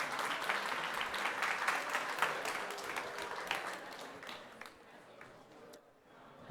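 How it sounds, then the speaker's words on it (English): An audience at a business conference panel applauds, with dense clapping that stays steady for several seconds and then thins out and fades. "So can you guys give a round of applause for them joining us?"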